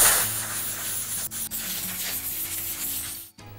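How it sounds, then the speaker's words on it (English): Air compressor nozzle blowing a squirrel skin dry for taxidermy mounting, a close steady rushing hiss with two brief dips and a short cutoff near the end. "Now we're gonna blow this squirrel dry."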